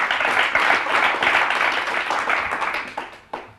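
Close, loud audience applause for a quiz finalist at a school competition, a thick burst of clapping that tapers off with a few last scattered claps near the end.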